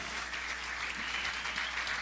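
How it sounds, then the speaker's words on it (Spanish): A church congregation claps for the word of God during a sermon, a brief, even burst of applause heard alone and fairly soft. "Denle un buen aplauso a la palabra de Dios."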